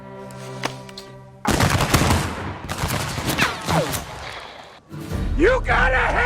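Rapid gunfire from a film scene, a loud, close string of shots and bursts cracking over several seconds, with a short gap before another volley, and a voice speaking amid the noise.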